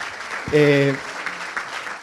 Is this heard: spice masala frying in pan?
no